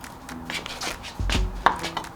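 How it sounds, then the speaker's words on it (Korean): A kitchen knife slices through a kabocha squash on a cutting board, with a few soft cuts followed by firmer chopping thuds near the middle; no one talks. "단호박도 잘 썰리네요"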